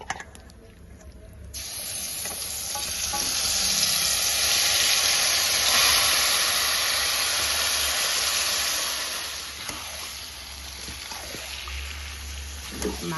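Marinated meat hits hot oil already crackling with cumin seeds, giving a steady loud sizzle and hiss that swells and then settles, with faint kitchen noise underneath.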